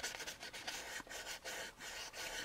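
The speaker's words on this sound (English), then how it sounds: "you notice how I'm dry sanding this" Dry sandpaper rubs back and forth over primer on a plastic model kit of the U.S.S. Enterprise, a steady rhythmic rasping of quick close strokes with no voice over it.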